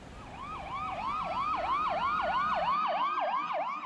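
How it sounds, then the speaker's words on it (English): Fire truck siren wailing in a city setting, a rapid repeating yelp sweeping up and down in quick cycles, loud and steady throughout with no voices. "the urban environment to a noisy fire truck"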